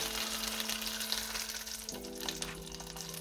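Pork smoked sausages fry in a pan as their fat melts, giving a steady close crackling sizzle that runs unbroken with a faint hum underneath.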